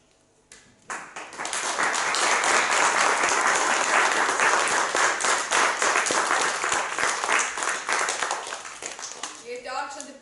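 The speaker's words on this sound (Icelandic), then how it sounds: "við ætlum að klappa rosalega vel fyrir honum þegar hann gengur inn á svið" An audience at a Christmas party breaks into loud, sustained applause as a performer walks onto the stage, starting abruptly and continuing dense for several seconds before tapering off, with a voice beginning to speak at the end.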